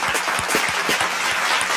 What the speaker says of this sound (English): Let me give you a round of applause for that.